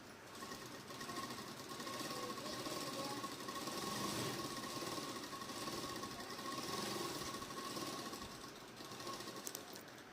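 A sewing machine stitches a salwar hem in one long, unbroken run, a steady mechanical whir and rattle close by, with no talking.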